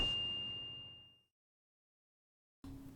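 A single bright notification bell ding rings out and decays over about a second into silence, followed by a short burst of another sound near the end.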